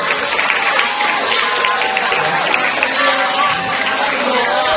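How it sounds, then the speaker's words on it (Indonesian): Students at a school Islamic New Year (1 Muharram) gathering in Yogyakarta applaud, a broad sustained crowd clapping with murmuring and chatter mixed in, loud and steady throughout. "Tepuk tangan buat Mas Rama."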